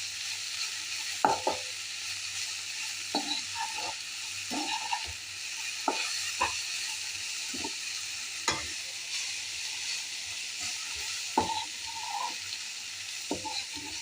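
A cabbage stir-fry with spices being stirred in a pan, village-style: a soft background sizzle with scattered scraping and clinking strokes of a spoon against the pan, irregular and close.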